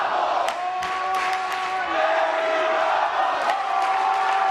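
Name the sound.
crowd chanting Eddie Bravo at grappling match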